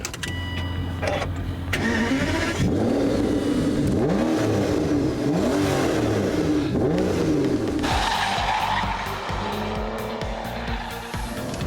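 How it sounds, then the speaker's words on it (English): A V12 supercar engine fires and settles into a warm-up, loud and close, with repeated swelling revs over a rumbling idle and a sharper rise in pitch toward the end. "the sheer sound of that V12 warming up"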